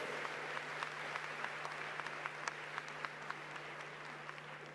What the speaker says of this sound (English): Let's give them a warmer round of applause